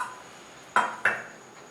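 Two quick, light clinks about a quarter second apart, like a spoon knocking a bowl while rice flour and gram flour are stirred together for bajji batter, in an otherwise quiet kitchen.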